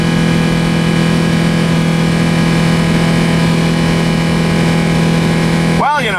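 A car engine idles steadily in neutral after brake fluid was put in the motor, a loud, even hum with a constant drone that holds unchanged before a brief clatter at the very end.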